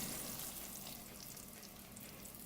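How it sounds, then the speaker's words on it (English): A pot of vegetable scrap stock at a full boil on the stove gives off a soft, continuous bubbling hiss. It is quiet and steady, with no voices. "Okay, it's boiling now, so I'm going to go ahead and turn down the heat."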